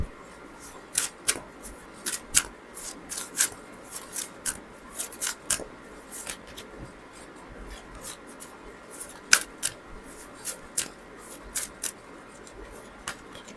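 Tarot cards are shuffled and pulled by hand in a quiet room, making a steady string of soft, crisp snaps and brushing flicks that are close and fairly faint, with no talking.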